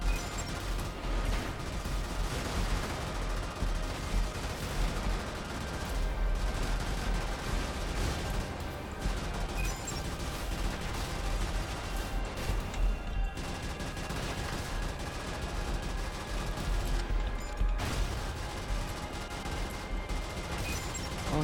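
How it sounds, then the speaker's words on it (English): Heavy cannon fire and dense gunfire from the mech combat video game Brigador, a continuous loud barrage of blasts and mechanical clatter throughout, with no talking. "that's a big cannon."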